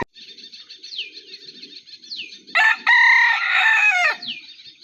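On a farm with trees, a rooster crows loudly and close by, its long call standing out over steady chirps, hen clucks and soft background bird chatter.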